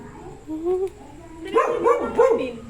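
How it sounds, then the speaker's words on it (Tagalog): A dog barks several times in quick succession around a two-storey house in Davao City, loud and close, following some earlier talk. "oh, di may aso."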